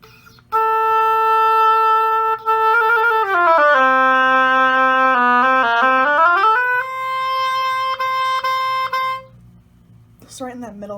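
An oboe fitted with a European scrape reed plays a sustained, reedy tone that slides down and back up in pitch, loud and close, with a slightly buzzy quality before stopping.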